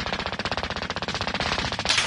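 Rapid automatic gunfire in the Warzone video game, a dense, loud, evenly spaced stream of shots rattling continuously for about two seconds.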